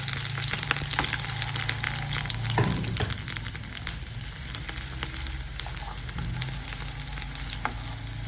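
Ginger crackles and sizzles in hot oil in a pan while making sauce for Hainanese chicken, a dense continuous frying hiss with a low hum underneath and a brief surge partway through.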